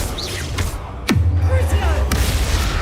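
Fire and explosion spells cast in the video game Hogwarts Legacy: a loud whooshing blast sweeps down into a sustained low rumble over steady game noise, with crackling bursts after it.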